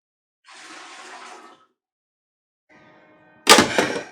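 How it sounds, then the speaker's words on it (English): Water rushes briefly over a removed part of a Thomas Aqua vacuum cleaner, then after a pause a louder, splashing gush of rinsing water ends the moment, close and without talk. "I'll rinse this again"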